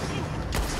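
A cannon in the Red Dead Online video game lets out a sharp booming blast midway through a dense, noisy gunfight soundscape, with heavy rumbling gunfire-like texture throughout and a faint voice beneath.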